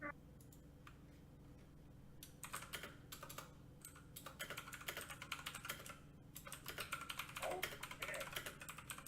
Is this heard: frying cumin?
no